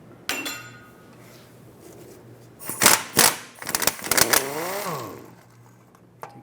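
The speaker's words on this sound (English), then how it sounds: "With a 13mm socket, remove the 2 bolts that hold the starter on." Ratchet with a 13mm socket backing out the starter bolts on a 2003-2021 Chevy Express 3500 van: a few sharp metallic clicks and clinks in short bursts, close and fairly loud, with faint quiet stretches between.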